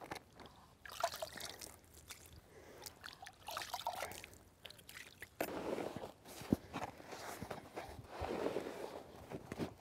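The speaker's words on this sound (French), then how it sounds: "là maintenant je vais procéder au mouillage direct, puisque là l'amorce bien sûr n'est pas mouillée" Water is trickled and splashed over dry fishing groundbait and worked in by hand for feeder fishing for barbel and carp, with faint irregular dribbling, squishing and light splashes close by and no voices.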